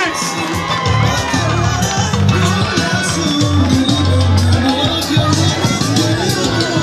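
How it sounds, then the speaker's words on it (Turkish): Guests at a Romani wedding in Ömerli cheer and shout in a loud, continuous crowd roar with whoops and excited voices, close and dense throughout, mixed with music-like tones and babble rather than clear clapping. "Alkışlar durmuyor izleyiciler alkışlar durmuyor izleyiciler."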